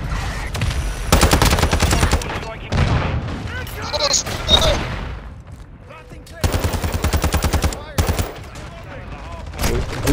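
Mortar strike in Modern Warfare 2, a dense run of rapid gunfire bursts and booming impacts with explosive rumbles, heard loud and close between pauses, with a voice speaking over parts of the action.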